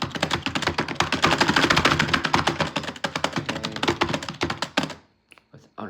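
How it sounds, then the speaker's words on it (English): Rapid continuous clatter of typing on a computer keyboard, close and crisp, with dense keystrokes for about five seconds before it stops abruptly, leaving a few isolated taps. "I'm just listening and typing."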